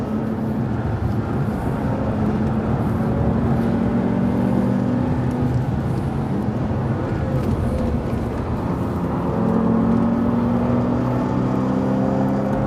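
A Bentley Continental Supersports at speed on the Nurburgring, its engine a steady, dense roar with rising and falling tones as it brakes and changes direction, heard from on board.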